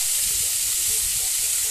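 Cut potatoes frying in oil in a kadai give off a dense, steady sizzle, loud and close, that goes on without a break.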